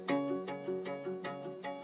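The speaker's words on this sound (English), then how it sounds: "And then we have a higher octave coming here." Acoustic guitar plucks at a higher octave repeat in a quick, bright pattern, each note struck cleanly and ringing briefly, close and solo.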